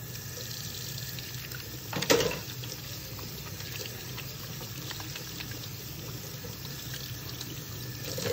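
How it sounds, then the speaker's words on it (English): Water runs steadily from a tap into a sink while washing brushes, a constant close rushing splash with a brief louder clunk near the start. "I'm gonna turn on the water, so it might be a little loud on the camera."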